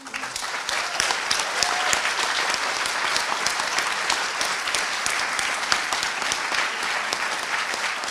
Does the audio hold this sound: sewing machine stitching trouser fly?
no